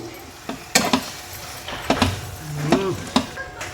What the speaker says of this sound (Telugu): ఇప్పుడైతే మంచిగా మిక్స్ చేసుకుందాం మనం